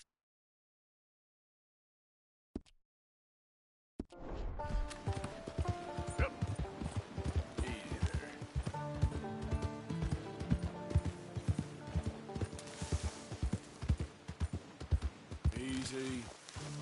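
Horse in Red Dead Redemption 2, rhythmic hoof clip-clops that start after a short silence and a brief knock, with music and game sounds layered beneath.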